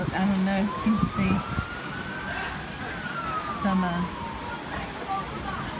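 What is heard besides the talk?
ambulance siren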